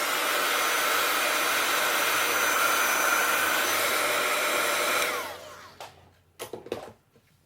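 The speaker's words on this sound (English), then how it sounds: "I'm going to hit it with a heat gun just real quick." A loud, steady heat gun roars continuously for about five seconds while drying a mixed-media art journal page, then cuts off, leaving a few faint knocks and rustles.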